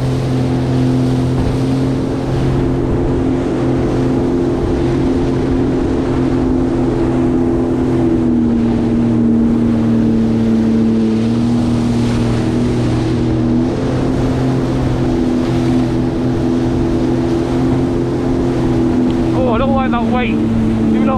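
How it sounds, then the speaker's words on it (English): A jet boat on the Niagara River thunders past close by, its engine drone steady and loud for the whole stretch, with wind and water rushing around it and a sharp splash near the end. "Here's the jet boat!"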